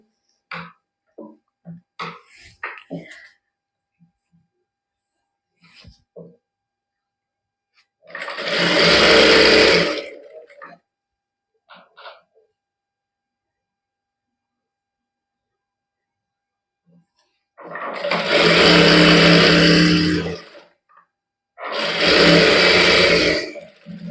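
A sewing machine stitches a doubled seam on a palazzo, running in three loud, steady bursts of a few seconds each, separated by quiet pauses with small clicks and handling noises.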